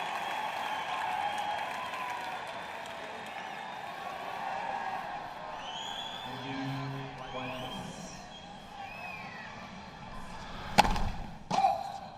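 Tennis crowd at the 2013 US Open applauding Lleyton Hewitt, the 2001 champion, near match point; a steady wash of clapping and crowd murmur, ending with a couple of sharp thuds.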